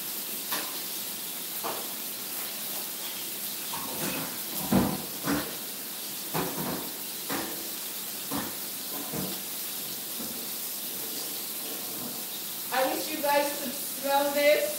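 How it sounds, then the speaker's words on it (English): Meat sizzles steadily as it browns in a hot pot, a constant hiss with occasional clinks and scrapes, while someone talks intermittently over it. "that is the sizzle you want to hear"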